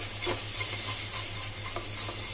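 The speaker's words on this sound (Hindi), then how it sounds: "इसे थोड़ी मीडियम आंच पे टमाटर को पकने तक चलाते रहेंगे" Tomatoes being stirred in a pot over medium heat for Sindhi chana dal, a soft steady sizzle and scraping of the spoon under a constant low hum, with no talk.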